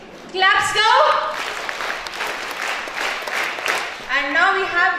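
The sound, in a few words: audience applause for a school science day team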